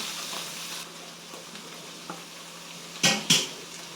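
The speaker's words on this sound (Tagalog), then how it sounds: "sinasabay ko yung aking mga seasonings sa paggigisa para ma-extract yung kanilang aroma" Seasonings sauté in a pan for carbonara, giving a soft continuous sizzle with faint scraping, then two sharp utensil clanks against the pan near the end; no talking.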